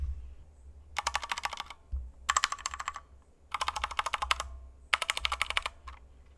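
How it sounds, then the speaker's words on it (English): Bursts of fast typing on a white Razer keyboard with linear silver switches, crisp close keystrokes in three or four separate flurries with brief pauses between, over a low steady hum. "This is like the sound test for the white one."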